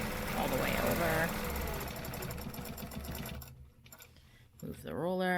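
A sewing machine stitches along lined-up stencil lines with a loud, continuous mechanical whir, pausing briefly before starting up again, with a voice talking over it.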